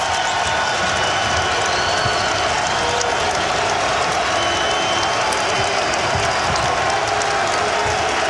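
A basketball arena crowd at the Bradley Center, Marquette Golden Eagles home game, roars and applauds loudly and continuously, a dense wash of cheering with scattered whoops.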